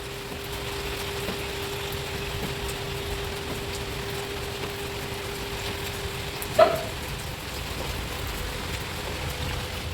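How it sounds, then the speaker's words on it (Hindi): Steady rain falls outdoors as a continuous, even hiss with no clear gaps, broken only by one brief sharp sound partway through. "बारिश आ गई"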